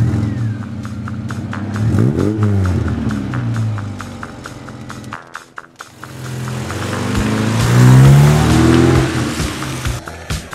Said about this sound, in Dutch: Kun je er net even een rondje in rijden?